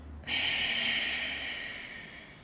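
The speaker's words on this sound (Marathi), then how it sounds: "मी श्वास घेतला" A single long, deep breath drawn in through the nose during yogic alternate-nostril breathing, a loud close airy rush that starts abruptly and slowly fades.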